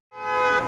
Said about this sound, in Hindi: हॉर्न बजाओ, हॉर्न बजाओ।